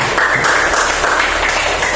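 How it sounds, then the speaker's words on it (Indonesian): Students in a madrasah classroom clap their hands for a classmate, a dense, steady patter of applause lasting about two seconds with no talk over it. "Boleh tepuk tangan untuk Am?"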